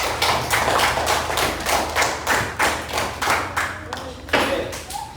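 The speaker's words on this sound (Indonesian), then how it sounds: "tepuk tangan dulu" Classroom of students clapping hands together after a group presentation, a steady run of sharp, fairly close claps from a small crowd that thins out near the end.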